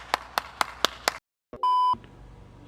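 A sharp electronic beep from a PlayStation 5 powering on sounds once, steady and clear, after a few short clicks and a brief silence, then low hum continues.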